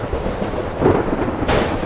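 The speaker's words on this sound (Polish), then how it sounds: "Na piorun." Thunder from a lightning strike called down by Zeus in the ARMA III military video game, a rumbling roll with a sharp crack partway through, loud and alone.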